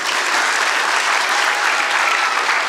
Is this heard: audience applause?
yes